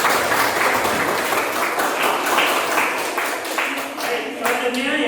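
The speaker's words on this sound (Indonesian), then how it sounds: "Tepuk tangan lagi." A classroom group gives a burst of applause, lively and fairly loud, with clapping that pulses unevenly and keeps going for several seconds.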